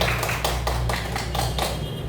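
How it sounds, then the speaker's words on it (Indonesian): A group of adults in a school training session claps in unison, a series of sharp, rhythmic bursts spaced about every quarter second, close and fairly loud over a low steady hum. "Tepuk tangan untuk kita semuanya."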